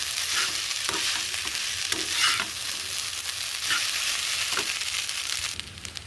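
Pasta with potato and egg fries in a pan with a steady, close sizzle, broken by repeated scraping strokes of a spatula stirring the food.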